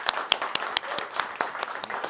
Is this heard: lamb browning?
no